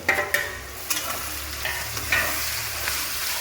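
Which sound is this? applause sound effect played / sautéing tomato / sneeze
sautéing tomato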